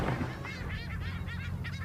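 Booby seabirds on the Baja coast of the Sea of Cortez give a rapid series of nasal, honking calls close by, overlapping and repeating without pause.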